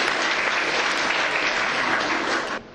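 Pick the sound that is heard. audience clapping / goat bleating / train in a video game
audience clapping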